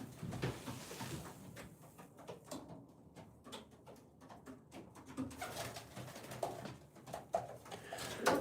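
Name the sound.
racing pigeons cooing in loft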